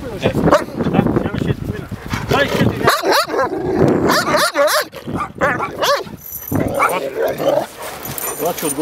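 A Caucasian shepherd dog barks and whimpers close by, yipping and whining in bursts, while people talk over and around it.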